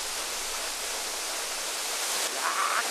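Rushing water of a valley waterfall in Korean winter roars in a dense, steady hiss, like a waterfall heard up close, with no other sounds standing out.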